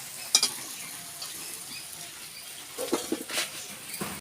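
Methi potato fry sizzling in a pan as it is stirred, a soft continuous frying crackle with a sharp scrape near the start and a cluster of louder stirring clatters toward the end.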